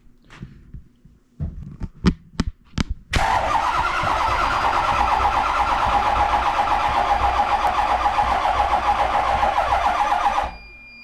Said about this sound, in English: So we got this jumper box. We're gonna try to crank it up.